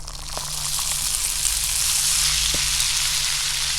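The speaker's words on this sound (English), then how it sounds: "We'll get to browning these hash browns up here in the pan." Dehydrated hash browns fry in a hot pan with a steady, loud sizzle and crackle that builds slightly, with a couple of faint utensil taps against the pan and no talking.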